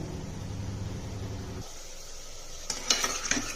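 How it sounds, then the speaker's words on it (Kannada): Onion, garlic and ginger paste frying in a pan while being stirred, with a low sizzle under the stirring and a few sharp scraping clinks of a utensil against the pan toward the end. "ಈಗ ಶುಂಠಿ ಬೆಳ್ಳುಳ್ಳಿ ಪೇಸ್ಟು ಚೆನ್ನಾಗಿ ಹುರಿದಿದ್ದೀನಿ"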